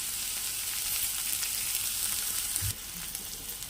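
Onions soften in hot oil in a pan, giving a loud, dense, continuous sizzle close by, with a brief low knock partway through, after which the frying carries on slightly quieter.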